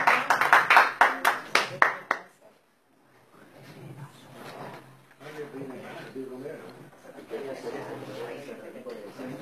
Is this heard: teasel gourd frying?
no